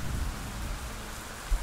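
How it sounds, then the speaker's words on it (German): Loud, dense rain pours steadily in the video game Age of Darkness. It is a constant hiss with a heavy low rumble and no voices. "Auch wenn der Regen hier sehr laut drin ist."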